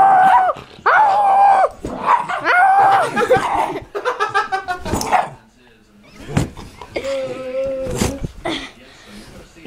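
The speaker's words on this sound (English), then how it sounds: "You see that dog right there?" A dog lets out several loud barks and growly yelps in quick bursts, mixed with people's laughter and chatter nearby.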